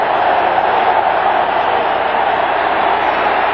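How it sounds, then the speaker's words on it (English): Steady roar of a large crowd in the stands at an NFL football game in Los Angeles, Broncos visiting the Raiders, a dense, continuous wash of noise that stays loud throughout without breaks. "Big crowd here in L.A. And you can hear them"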